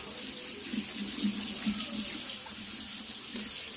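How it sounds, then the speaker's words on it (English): Tap water runs steadily into a sink while beef tripe for menudo is rinsed, a continuous close splashing hiss with no voices. "We're just going to rinse it out."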